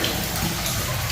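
Steady rush of water flowing from a pipe or outlet in a village setting, a continuous close, fairly loud splashing hiss with no break over the short moment.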